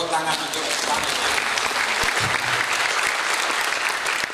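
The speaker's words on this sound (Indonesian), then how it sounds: "Mungkin bisa kita beri aplaus dulu, tepuk tangan untuk panitia." Sustained applause from an audience at a school end-of-year ceremony, a dense, even clapping that stays loud throughout, with a faint voice in the mix.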